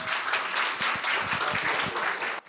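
Audience applause greeting a congratulatory speaker at a Korean speaking contest for international students, steady dense clapping throughout, cutting off sharply near the end.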